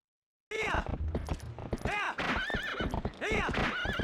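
Horse in the video game Zelda Twilight Princess: loud clip-clop hoofbeats of a gallop with repeated close neighs and whinnies over them, starting abruptly after a brief silence.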